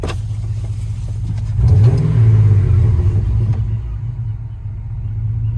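A second-generation Dodge truck engine idles smoothly and steadily with a deep, even rumble, briefly revving up and settling back down, close and loud throughout.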